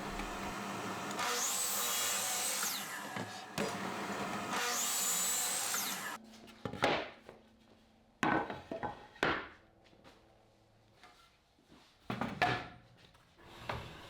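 A saw rips a 2x6 wooden board lengthwise in half, with two long, loud, steady cutting passes, each lasting a few seconds. Sharp knocks and clatter of wood being handled follow.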